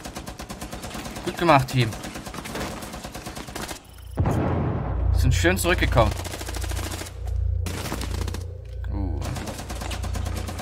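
Rapid bursts of automatic gunfire crackle and rattle in the tactical shooter Rainbow Six Siege. The volleys are close and loud, with a deeper rumble midway, while players talk over the shooting.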